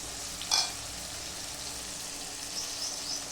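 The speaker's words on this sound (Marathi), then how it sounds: "हे चांगलं तेलामध्ये फ्राय करून घ्यायचं" Red chilli powder, turmeric and salt fry in oil with a quiet, steady sizzle. A short stirring clatter comes near the start, and no voices are heard.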